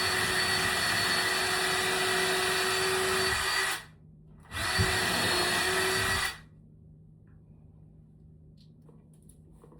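A power drill runs loud and steady as it bores into a wooden wall stud, briefly cutting out, revving again, then stopping, leaving quiet room tone.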